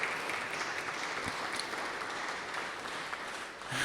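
Steady, dense applause from a crowd at a university athletics celebration, fairly distant and continuous throughout, with no speech over it.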